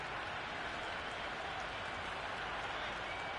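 Large stadium crowd at a video game cricket Test match, Australia versus England, giving a steady, broad wash of applause and murmur that holds evenly throughout at moderate loudness.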